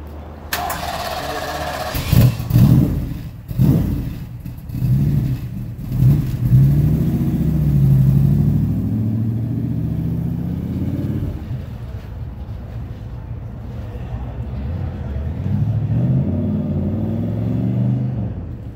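A car engine revs and rumbles up close at an outdoor car show, with loud bursts early on that settle into a steady, throaty idle with occasional swells, plus some wind noise over the microphone.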